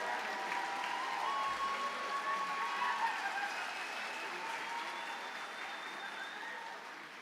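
An audience at a graduation convocation for animal and dairy science graduates claps in sustained, even applause, a dense wash of hands that holds steady, then tapers slightly near the end.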